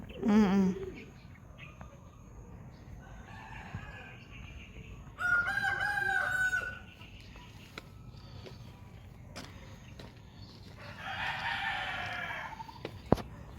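A rooster crows a few times at moderate distance, with other birds and background noise around it.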